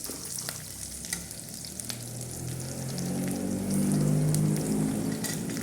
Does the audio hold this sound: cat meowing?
no